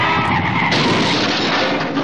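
A car's tires skid and squeal loudly and continuously on the road, with a brief surge partway through.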